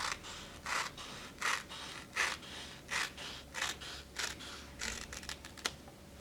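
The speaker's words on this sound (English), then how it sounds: "So she cut the paper" Scissors cut through paper, shaping a house roof, in a series of about nine crisp, evenly spaced snips close by and fairly quiet, with no talking over them.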